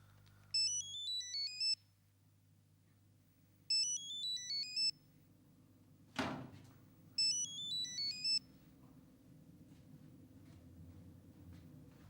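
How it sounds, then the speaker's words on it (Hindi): A mobile phone ringtone for an incoming call chimes in three short melodic bursts spaced a few seconds apart, over a low background hum, with one sharp thud between the second and third rings. "इतनी देर से तुझे मैं फोन कर रहा हूँ।"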